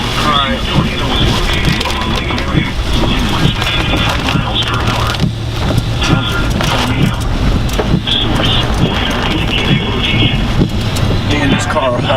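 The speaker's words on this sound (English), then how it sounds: "This wind is tearing us up." Hurricane-force wind roars steadily at night around a fast-moving car, a loud continuous rush with road and engine rumble beneath, while someone talks over it.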